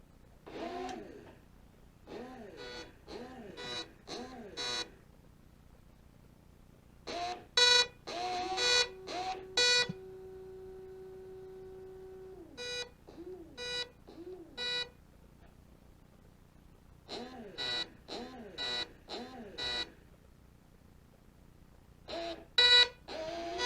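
A homemade Arduino-programmed electronic instrument plays on its own: bursts of shrill, rapidly sweeping electronic beeps and buzzy tones come in clustered phrases, separated by brief near-silent gaps, with one sustained low drone midway.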